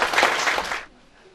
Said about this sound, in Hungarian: Kérünk egy üdvözlő tapsot a kis kórusnak, akik Szentál Rózsa tanárnővel most a színre